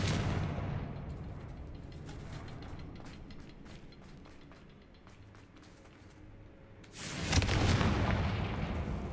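A Confringo fire spell in the Hogwarts Legacy video game bursts with a sudden loud boom near the end, following a stretch of low rumbling and crackling battle noise.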